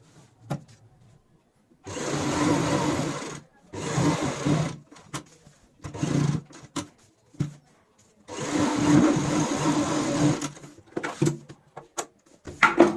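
A sewing machine stitches a cushion cover in several separate runs, each a steady mechanical whir lasting a second or two, separated by silent pauses and a longer final burst, close and clear with no talking.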